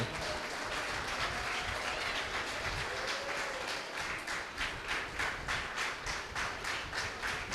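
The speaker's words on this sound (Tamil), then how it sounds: "அவங்களுக்கு ஒரு பெரிய கைத்தட்டல் கொடுத்துடலாமா" An audience at a school annual day celebration applauds, with sustained clapping in a steady, rhythmic wash throughout and no speech over it.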